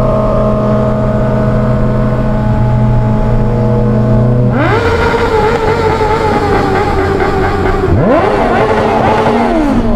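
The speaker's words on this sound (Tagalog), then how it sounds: "Makakarinig tayo ng ZX-R bomba" A Kawasaki ZX-R engine idles steadily, then revs hard twice, each time climbing sharply to a loud high-pitched scream and holding there, recorded up close.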